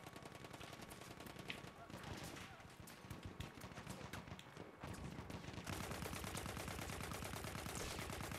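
Rapid bursts of gunfire crackle continuously through a dense, busy Battlefield 1 multiplayer soundtrack, with heavy automatic fire and a steady rumble underneath.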